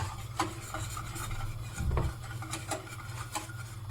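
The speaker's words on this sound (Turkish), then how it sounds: "Aa tabak tabak olacak yoksa hemen karıştırmalısın" A spoon stirs a pudding mixture in a bowl, scraping and knocking against the sides in a quick, steady rhythm, close and fairly loud, with one heavier clunk midway.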